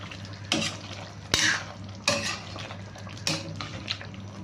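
Lemon pepper chicken is stirred in a pan, with a few distinct scraping clatters of the spoon against the metal over a steady low frying hiss, close and moderately loud, with no talking.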